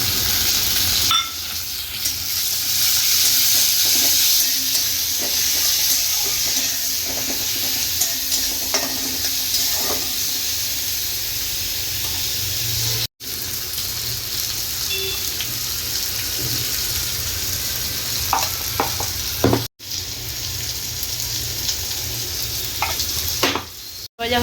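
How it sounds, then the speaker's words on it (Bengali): Chopped tomato and onion fry in oil for a dal tempering, giving a loud, even sizzle that carries on for a long stretch with intermittent spoon stirring and a few abrupt silent cuts. "হালকা ভাজা ভাজা হয়ে গেলে দিয়ে দেবো একটা টমেটো কুচি"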